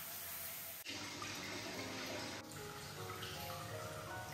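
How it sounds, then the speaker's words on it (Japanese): Shower water runs steadily in a bathroom of a Nikko hot-spring ryokan suite, a loud, continuous hiss with two brief interruptions as the spray is moved. "シャワーの水圧をチェック。"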